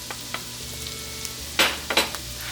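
Flour being stirred into hot butter and garlic in a pan gives a soft, low sizzle with scattered light ticks, then a few louder scraping stirs near the end.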